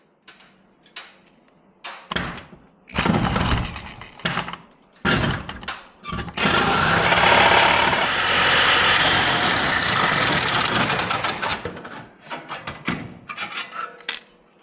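Sawzall reciprocating saw cutting a vent hole for an exhaust fan, with short harsh bursts of rasping cutting broken by pauses, then a long continuous grinding run of several seconds before more brief stop-start cuts.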